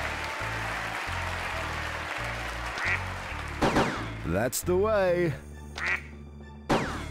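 Cartoon ducks quack in the PS2 quiz game Buzz! The Mega Quiz, a series of nasal squawks over a pulsing game-music loop, with someone talking briefly near the end.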